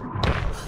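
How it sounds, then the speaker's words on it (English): A single soft, muffled cartoon thunk is heard close by, brief and low, with nothing else around it. "That's the thunk I heard when I saw the spider run"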